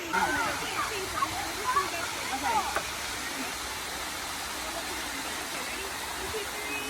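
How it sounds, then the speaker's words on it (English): Cataract Falls in the Smoky Mountains pours with a steady, dense rushing hiss that holds level throughout. Faint chirps and brief murmurs sit in the opening seconds. "You want to play in the waterfall?"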